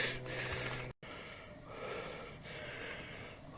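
Heavy, gasping breaths from a hiker resting after climbing uphill, close and loud, in repeated drawn-out inhale and exhale cycles with raspy wheezing and snorting, followed by a sharp burst at the end.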